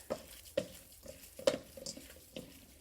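Sausage meat and seasoning mixed by hand, a few soft, wet squelching slaps spaced irregularly, close and quiet.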